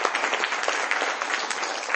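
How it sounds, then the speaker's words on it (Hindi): Listeners at a Vedic Sandhya teaching session applaud a correct answer, giving a short, steady burst of clapping from a small gathering, heard on its own. "एक बार इनके लिए ताली हो जाए।"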